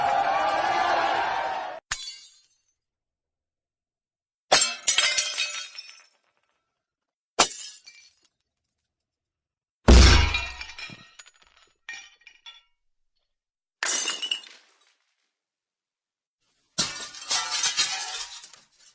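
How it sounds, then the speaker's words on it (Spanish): Glass shattering as vehicle windows are smashed in a violent attack on jeeps, heard as a series of separate sharp crashes and tinkling bursts with silent gaps between them, one heavy thud-backed smash in the middle, all close and loud. "Desinflando las llantas y rompiendo los vidrios."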